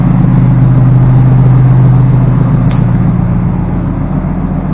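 A Nissin vehicle engine idling steadily close by, a loud low rumbling hum with a constant drone and no revving, fading slightly toward the end.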